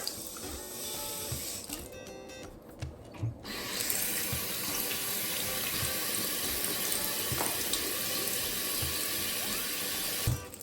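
Tap water runs steadily into a container, a continuous hissing splash after a brief pause, with faint background chirps and clicks.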